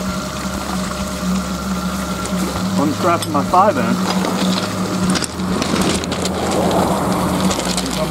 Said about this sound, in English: Turn my hydrant on a crack. You can hear the water coming up.